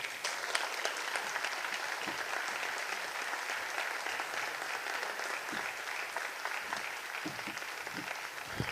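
A theatre audience applauds at the close of a talk on euthanasia. The clapping is a dense, steady wash from many hands, even and sustained, heard from some distance at moderate level.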